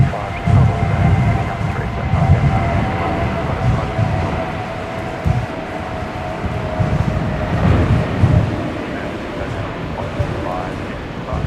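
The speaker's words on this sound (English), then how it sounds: "The wind is still there, though." Wind buffets an outdoor microphone near Brisbane Airport, with low rumbling gusts surging and easing throughout, steady and fairly loud, while faint tonal hum sits underneath.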